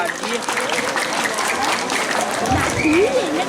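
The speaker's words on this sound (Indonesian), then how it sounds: "Tepuk tangan dong niki senior-senior di jalan menggambar." A crowd at a Balinese Calonarang ceremonial performance claps in a sustained burst, with voices and a wavering sung or shouted tone mixed over the applause.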